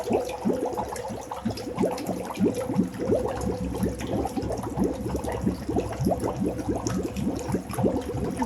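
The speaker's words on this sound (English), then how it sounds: "Give it a few minutes while the treadmill fills up with water." An underwater treadmill fills with water, giving a continuous churning, bubbling flow with a rhythmic pulsing pump beneath it, steady and fairly close.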